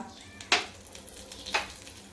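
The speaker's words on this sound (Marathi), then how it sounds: "हे आपल्याला तेलात छान 2 ते 3 मिनटं परतून घ्यायचं आहे" Nigella, white sesame and ajwain seeds sizzle in hot oil with asafoetida, chilli flakes and crushed garlic, a soft continuous fizz broken by two sharp, crackling bursts about a second apart.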